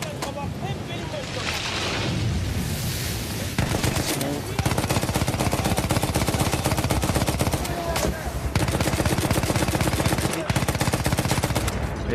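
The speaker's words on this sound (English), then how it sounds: "They just got off an artillery round at me." Battlefield 1 gameplay with heavy gunfire and loud explosive booms, including an artillery round fired, dense and continuous over a rumbling battlefield background with some music.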